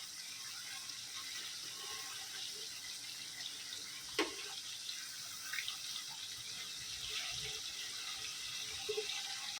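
Fish sizzling as it fries in hot oil for a Konkani-style fish biryani, a steady close crackling hiss throughout with a few small pops and spits.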